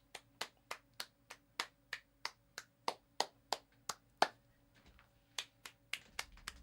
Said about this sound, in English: Give this album a round of applause.